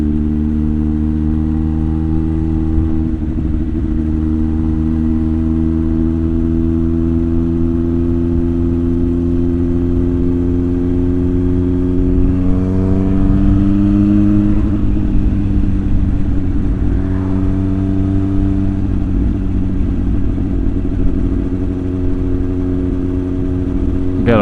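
Spicy110 motorcycle exhaust while riding to the seafront: a steady, loud low engine drone with stacked harmonic hum, pitch easing and shifting with throttle, running continuously near the mic with a faint voice underneath.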